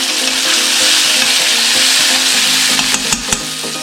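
Garlic browning in hot oil for Bombay saag aloo, a loud continuous sizzle close up, with a few light utensil scrapes and taps near the end.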